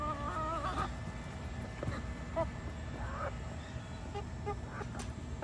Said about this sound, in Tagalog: Feed the chicken.